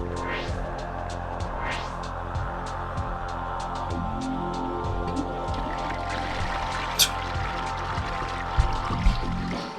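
Water is emptied from a bottle into a toilet in the video game Custom Robo, a steady trickling pour over a constant low hum and throbbing engine-like drone, with faint ticking sounds throughout.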